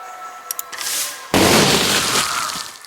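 In Besiege, a machine packed with cannons fires, with a few small clicks and a rising whoosh, then a sudden loud explosive burst that crashes and rumbles on.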